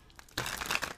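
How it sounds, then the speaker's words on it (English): Tarot cards are shuffled by hand in a brief, crisp burst of papery riffling and crinkling, close and fairly loud. "I'm going to get a few shuffles before we start."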